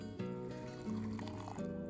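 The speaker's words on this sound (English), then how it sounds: "I've added 4 ounces of water" About 4 ounces of water pours steadily into a bowl of oatmeal, a close, continuous liquid splashing with a rising fill tone, alone with no talking.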